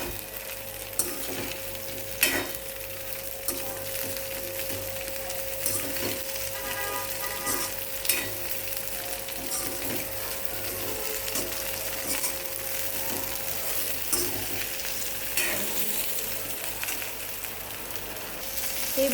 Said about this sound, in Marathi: आणि हलवून घ्यायची भेंडी. चांगली जरा हलवायची म्हणजे मऊसूत होते.